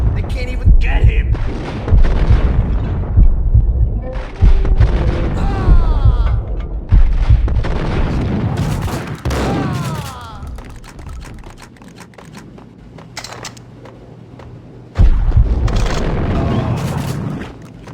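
Gunfire in the video game Max Payne: loud, repeated booming shots and bursts in several clusters over eighteen seconds, with game voices and music underneath and rattling impacts between volleys.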